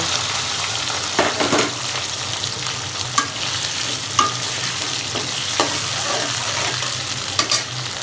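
Potato pieces fry in mustard oil previously used for frying fish, seasoned with turmeric and salt, with a continuous crackling sizzle broken by repeated scraping stirs of a spatula in the pan.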